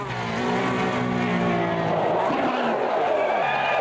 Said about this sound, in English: Oh, the car sounds nice actually in the replays